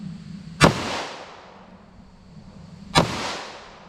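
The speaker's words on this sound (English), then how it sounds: "Let me do a couple shots with this." Two sharp .357 SIG gunshots fired with Underwood Xtreme Penetrator ammunition during ballistic testing, each a loud crack with a decaying echo, spaced a couple of seconds apart.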